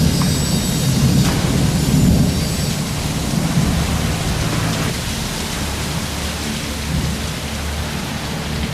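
A powerful coastal thunderstorm brings steady, loud rain hissing on surfaces, with low rumbles of thunder rolling underneath throughout.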